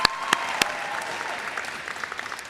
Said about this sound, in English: Clap her up.